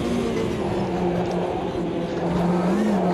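A race car engine in the sim racing game Automobilista 2 holds steady high revs with a buzzing, continuous drone that wavers slightly in pitch, loud and close with no speech over it.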